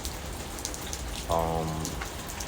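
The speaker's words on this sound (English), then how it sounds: "It's raining outside and cars passing by." Steady rain falls outside as a continuous even patter, with a brief humming tone rising midway through.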